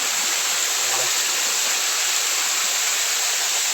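Continuous rushing water, a dense, even roar of a flowing river with no pauses, running through dense brush in the Konkan region.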